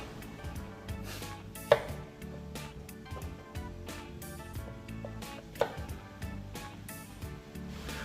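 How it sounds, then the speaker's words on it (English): A knife chops the ends off cucumbers on a cutting board for pickles, giving a run of sharp, irregular taps close by, with a couple of louder knocks standing out among the softer cuts. "So that's why we chop the ends off to get the enzymes out."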